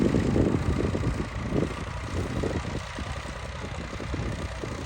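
A steady, low engine drone from a Massey 260 tractor runs throughout with some wind buffeting, loudest at the start, and no talking.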